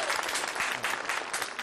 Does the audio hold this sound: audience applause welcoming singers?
yes